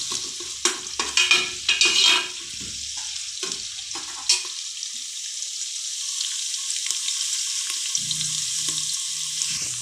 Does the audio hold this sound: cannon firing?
no